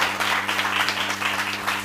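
A church congregation claps hands in praise to the Lord, a dense and continuous patter of many hands that stays close and steady for a brief moment.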